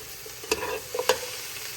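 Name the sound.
onions, carrots and garlic sauteing in avocado oil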